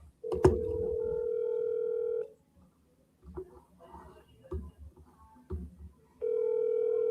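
Telephone call tones: a loud steady tone, then a pause with a few faint clicks and beeps of dialing, then the steady tone returns, close and clear.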